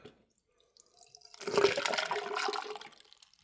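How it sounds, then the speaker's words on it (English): Vinegar pours and gurgles into a stuck engine's metal cylinder, starting after a quiet moment and continuing in a steady splashing stream for a couple of seconds. "pour a little vinegar"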